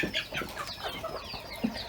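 Hens and two roosters in a coop cluck and squawk close by in short, overlapping calls.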